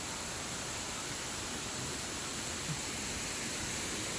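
Waterfall at Pangil, Laguna, a steady broad rushing wash of falling water, fairly faint and even throughout, with no talk.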